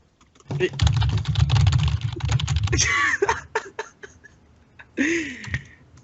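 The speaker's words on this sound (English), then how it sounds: "He loves the sound of my keyboard." Rapid clicking keystrokes on a computer keyboard patter close by for about two seconds, followed by scattered taps between short bursts of voice and laughter.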